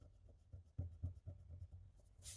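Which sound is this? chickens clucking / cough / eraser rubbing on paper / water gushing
eraser rubbing on paper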